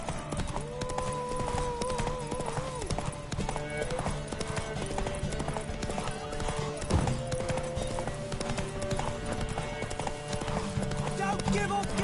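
Horse hooves gallop in a steady clip-clop rhythm in The Witcher 3 during a horse race, running continuously at moderate level beneath game music, with occasional voices over it.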